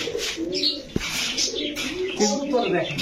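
Soft pigeon cooing and bird calls close by, with people talking over the birds throughout.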